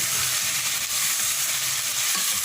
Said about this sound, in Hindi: इतनी देर तक इस चिकन को फ्राई करना है हमें